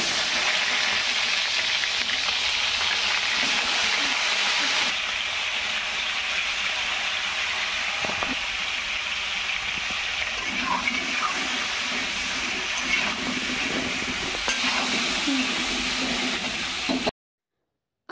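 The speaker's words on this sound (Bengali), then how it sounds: "আলুগুলো সুন্দরভাবে ভাজা হয়ে গেছে।" Cut potatoes fry in oil and are stirred, making a loud, continuous hiss and sizzle throughout with occasional soft scrapes, before cutting to silence at the very end.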